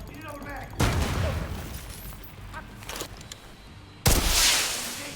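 Two sharp, loud bursts of gunfire in The Division 2, spaced a few seconds apart with a quieter stretch of game ambience and faint effects between them.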